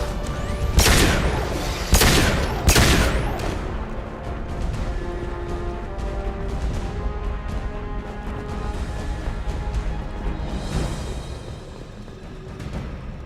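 Gunfire in the sci-fi shooter Mass Effect 2: a few loud, sharp blasts in quick succession open the scene, then give way to a denser, lower battle din of scattered shots and impacts under a steady rumble.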